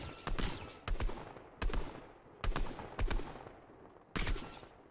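Six evenly spaced single gunshots from a weapon in Fortnite, each a sharp crack with a short decaying tail, fairly quiet with gaps between shots.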